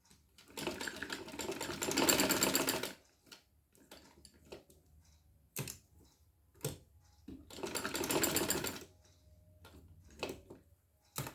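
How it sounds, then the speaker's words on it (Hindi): A sewing machine stitches dori piping onto the side slits and hem of a kameez, running in two longer close bursts of rapid mechanical whirring with short stop-start stitches and clicks between. "कोने में हम सिलाई जो है यहाँ तक ले जाते हैं"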